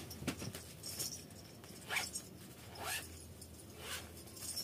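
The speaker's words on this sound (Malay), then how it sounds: "Lepas tu kita zip lah." A makeup bag is zipped shut in several short, raspy zipper pulls spaced about a second apart, close and fairly quiet.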